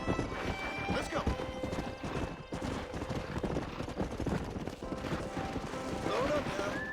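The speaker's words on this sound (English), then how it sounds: "We got some fine horses." Horse hooves clip-clop steadily at a gallop in the Western video game Red Dead Redemption, with a horse's whinny rising near the end, amid outdoor game ambience and some voices.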